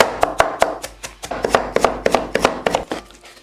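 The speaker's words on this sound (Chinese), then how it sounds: "最后剁成末备用" A knife chops shredded lotus root into mince on a board, with a quick, steady run of about a dozen sharp, close chopping strikes.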